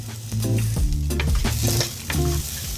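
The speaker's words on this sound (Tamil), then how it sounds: "இந்த மாதிரி ஆயிலில் கொஞ்சம் ரோஸ்ட் ஆனதுமே சின்ன வெங்காயத்தை ஆட் பண்ணிடலாம்." Small shallots sautéing in hot oil for a Kerala-style ground-coconut fish curry, with a loud, close sizzle and scraping stirs of a spoon against the pan; no voices.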